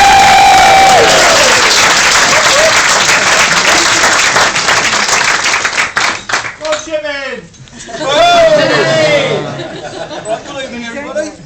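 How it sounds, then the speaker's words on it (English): Wedding guests at a reception break into loud, dense applause and cheering for the bride's father, with whoops and laughter; the clapping thins partway through, then swells briefly again amid chatter. "please give a nice round of applause to the father of the bride"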